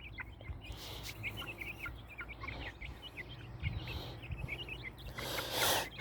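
A flock of backyard chickens clucks and chatters continuously at a moderate distance. Brief louder squawks and rustling rise out of the steady low murmur of the birds.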